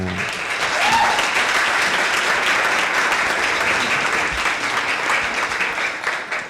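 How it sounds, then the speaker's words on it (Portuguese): Live studio audience clapping on a podcast episode with a guest from the Algarve motor racing circuit: dense, loud, sustained applause from many hands that holds steady for over six seconds, with no talk over it. "A nossa plateia é sempre forte aqui a bater palmas."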